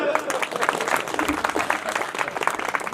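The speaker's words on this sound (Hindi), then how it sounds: "एक बार ताली बजा। चलो," An audience claps at a Hindi veer ras poetry recital. The applause is dense and steady, fills the full three seconds at an even level, and a faint murmur of voices sits underneath it.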